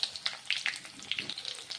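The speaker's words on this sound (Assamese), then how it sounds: "কেৰাহীত তেল দি লৈ এই পাঁচফোৰণ মছলা কেইটামান দি দিছোঁ" Panch phoron spice seeds frying in hot oil in a wok, quick popping crackles and sputters over a soft sizzle, close and fairly quiet, no talking.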